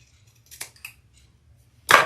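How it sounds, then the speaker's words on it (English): Scissors snipping off a leather overhang while a messenger bag is being made, heard as a few sharp close clicks and cuts followed by one louder snap, with no talking. "Let's cut that off."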